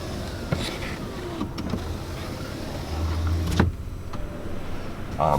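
A 2019 Ram 2500 Laramie's power rear sliding window operates inside the cab, a low motor hum running for about a second amid button clicks and a faint cabin background, close and moderately loud, with no talking.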